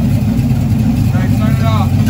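A car engine fitted with an Edelbrock manifold and carburetor idles with a low, steady rumble, while someone talks over it.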